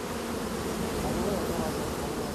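Honeybees buzz steadily at a beehive in midsummer, a dense, continuous hum from many insects close by that holds at an even loudness throughout.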